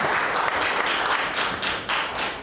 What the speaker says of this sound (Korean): 이제 강연 시작할 때 한번 박수로 환영해 주시기 바랍니다.